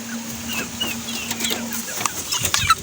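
Chickens cluck and murmur close by, short busy calls overlapping with a few sharper squawks, against a low steady hum.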